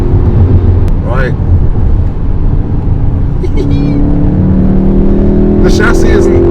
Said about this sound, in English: It's piping in a fake engine noise, but it's not a terrible one.